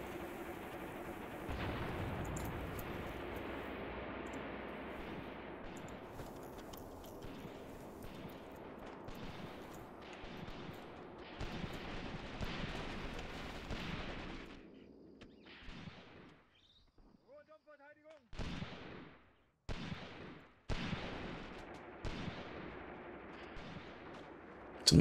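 Gunfire and artillery from the war strategy game Graviteam Tactics rumble in a dense, continuous barrage, then thin out into sharp separate bangs and short bursts near the end.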